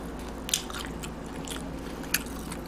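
Two sharp, crispy bites into deep-fried squirrel skin crunch close up, one early and one near the end, over quiet background rumble.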